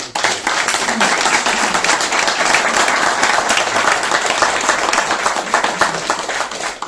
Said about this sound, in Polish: Brawa dla pani profesor.